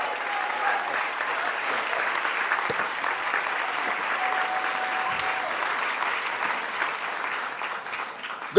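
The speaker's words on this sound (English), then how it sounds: "us receive with a hearty, hearty applause" Sustained applause from a large convention crowd at an opening session, steady and dense clapping throughout with a faint background murmur.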